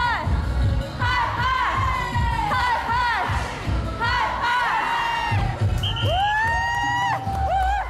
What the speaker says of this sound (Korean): 모두가 그냥 활력이 넘치시네. 기합 외치시고